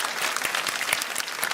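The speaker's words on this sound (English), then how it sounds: "Can we get a round of applause for that?" At a Reform UK local election event in Essex, an audience breaks into brisk applause, with individual sharp claps standing out in a lively, moderately loud burst.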